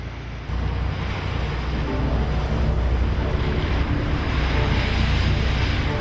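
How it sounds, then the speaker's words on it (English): Blustery wind buffets a sailboat just outside a harbour on a passage between the Faroes and Iceland. A loud, continuous roar of wind noise mixes with the wash of waves against the hull, with no voices. "It was blustery when we left the protection of the harbour"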